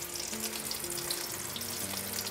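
Prawn paturi wrapped in pumpkin leaves frying in a pan, a steady close sizzle of hot oil with crackling bursts and a faint low hum underneath, without any talking.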